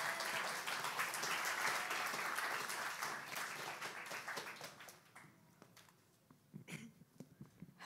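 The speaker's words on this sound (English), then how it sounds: "Let's give a big round of applause to Isaac" A congregation at a middle school worship service gives a loud round of applause that holds steady, then thins out into scattered claps and fades toward the end.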